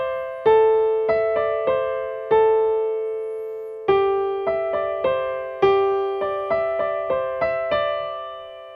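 Piano playing a piece with both hands together: clear struck chords and melody notes in an even rhythm, each ringing and decaying before the next, played alone with no talk.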